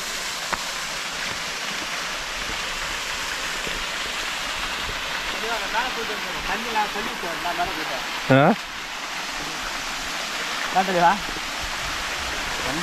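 Water from Masila waterfall in the Kolli Hills, flowing slowly and thinly in a dry spell, gives a steady, even rush of moderate loudness throughout, with some background voices faintly underneath.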